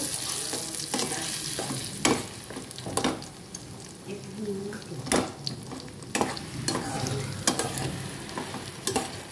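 Ridge gourd pieces with a ground paste fry in oil, a soft sizzle underneath repeated sharp scrapes and knocks of a spoon stirring the pan close by.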